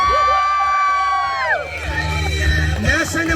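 Wedding guests at a Philippine reception break into loud whoops, screams and cheers for the father of the bride, a sustained high-pitched crowd roar with shouting voices rising together.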